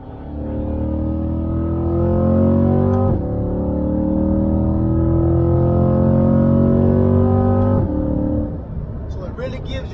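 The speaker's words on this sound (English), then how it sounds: "I'm gonna gear it down just to let you hear the motor and how it sounds" A new Chevrolet Corvette C8 Stingray engine revs with rising pitch, drops as it shifts gears, and climbs again, loud and close, settling at the end.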